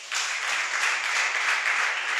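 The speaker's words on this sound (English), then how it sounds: "Can we clap for ourselves?" Entrepreneurship bootcamp participants at a vocational training centre clapping for themselves, a burst of brisk group applause starting suddenly and holding steady, close and fairly loud.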